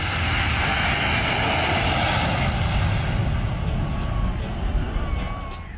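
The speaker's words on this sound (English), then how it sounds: "recorded some numbers of maiden landing of aircrafts, which the airport played host to" An airplane lands at Asaba International Airport in Nigeria, its engine roaring loud and steady throughout before easing slightly at the end, with no talk over it.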